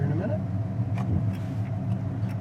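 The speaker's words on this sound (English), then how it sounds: "You hear that fuel injection?" A 1967 Pontiac GTO tribute with fuel injection cruising on the road, its engine giving a steady low rumble with road and wind noise, and someone talking over it.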